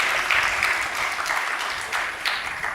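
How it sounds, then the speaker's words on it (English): An audience at a postgraduate symposium at a Ramakrishna Ashram claps steadily for a few seconds, a dense, fairly loud wash of many hands in a hall. "Clapping is nice."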